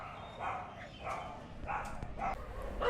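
Adult dogs at an animal shelter bark in a few separate bursts at moderate distance, with quieter whimpers and yips between them over low background noise.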